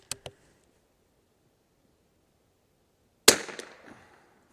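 Bergara B14R rifle fired at an outdoor range, two small sharp clicks early, then one loud sharp shot with a short decaying echo after silence.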